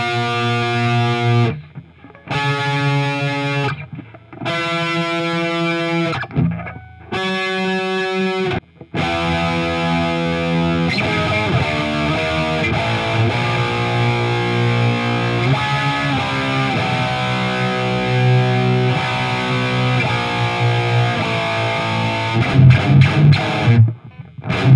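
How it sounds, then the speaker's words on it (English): Distorted electric guitar with a Floyd Rose bridge, first a few separate chords with short gaps, then sustained higher chords ringing together at steady pitch, loud and without talk. "Now you hear there's almost no wavering in the tuning when I hit chords."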